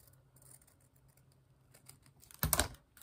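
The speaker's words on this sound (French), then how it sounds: "Je vais couper le haut de la robe." Scissors snip through paper for a collage, a few small quiet clicks and then one louder, crisp cut near the end, heard up close in a quiet room.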